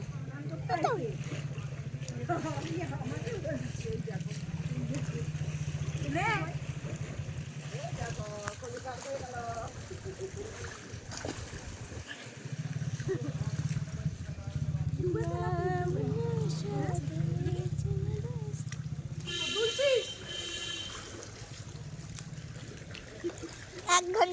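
People swimming and splashing in the Ganges river, with repeated water splashes and trickling nearby while voices talk throughout.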